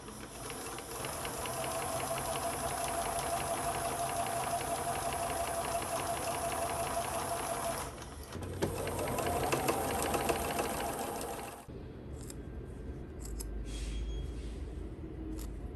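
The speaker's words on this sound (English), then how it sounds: "So let's get sewing" A sewing machine stitching quilt blocks runs in a long, steady, close whirring stretch, pauses briefly, runs again, then stops to leave a quieter hum.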